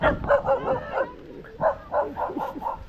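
A dog barks in a quick, uneven series of yapping bursts, close and fairly loud, with short pauses between volleys and no talk over it.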